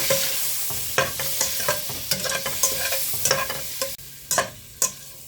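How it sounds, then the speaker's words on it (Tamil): Boiled eggs being stirred into egg gravy in a pan for a Kerala-style dish, with a steady frying sizzle and repeated sharp scrapes and clinks of the spoon against the pan, close and clear with no talking. "போட்டுட்டு கிண்டி விட்டுக்குவோம்"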